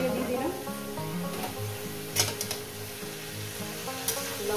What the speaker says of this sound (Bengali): শাকটাকে দিয়ে দিলাম।